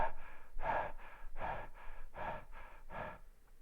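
A voice imitates winded, heavy breathing, giving about eight loud, rhythmic huffing breaths in steady succession, close up and alone.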